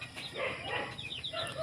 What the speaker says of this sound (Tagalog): Marami pong tandang yan.